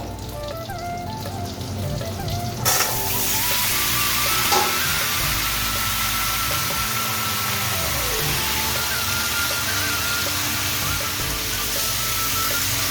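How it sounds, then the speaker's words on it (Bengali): Black cumin seeds and spices fry in hot oil in a pan, giving a loud, continuous sizzle that swells after a quieter start and holds steady throughout. "এগুলোকে ভালো করে ভেজে নেব"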